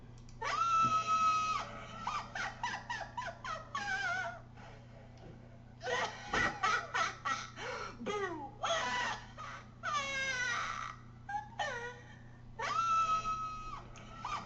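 A Halloween animatronic prop lets out repeated shrill, wailing screams in short bursts with brief gaps, like a distressed cry, fairly loud over a low steady hum.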